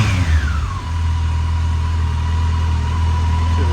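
A 2006 Yamaha FJR1300A motorcycle engine idles after a throttle body sync, a steady low rumble with a faint whine that drops and settles into an even, continuous idle, loud and close with no talking.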